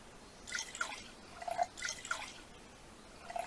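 Water pouring and dripping between bottles in the video game NEO Scavenger, soft trickling with small droplet plinks, faint and intermittent.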